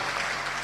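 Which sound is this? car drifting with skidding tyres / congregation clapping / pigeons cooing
congregation clapping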